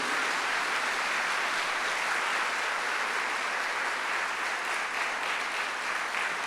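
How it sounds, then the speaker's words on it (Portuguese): A church congregation breaks into sustained, dense applause, steady and fairly loud throughout with no pauses. "Vamos aplaudir o Senhor pelos caminhos perfeitos dele."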